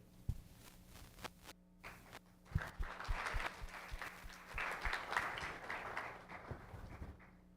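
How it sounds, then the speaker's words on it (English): Audience applause at a stage event in Guyana, fairly faint and distant, with scattered sharp claps and thumps rising into a sustained round of clapping. "Let's have a round of applause"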